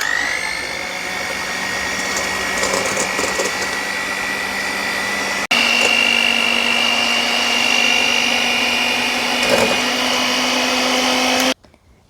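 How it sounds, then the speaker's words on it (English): An electric hand mixer whips cream and sugar toward stiff peaks for strawberry mochi, giving a steady, loud motor whine that shifts pitch slightly midway and cuts off just before the end. "So this is where we're going to use the hand mixer now."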